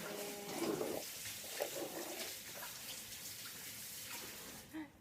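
Kitchen tap running while hands are washed during cupcake baking, a steady moderate splashing hiss with brief fluctuations and a short bump near the end.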